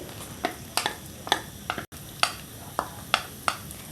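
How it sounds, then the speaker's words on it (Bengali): Chopped onion and green chili frying in hot oil, a soft sizzle punctuated by regular light scraping strokes of a spoon stirring the pan, quiet and close, with no talking. "তেলটা গরম করে এবারে আমি এখানে পেঁয়াজ এবং কাঁচামরিচ কুচি দিয়ে দিচ্ছি"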